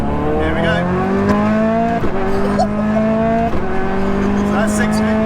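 A Prodrive P25 road car with a rally-style cabin accelerates hard, recorded from inside with a passenger aboard. The loud engine rises in pitch through the gears, with sharp shifts about every second and a half, and voices can be heard faintly over it.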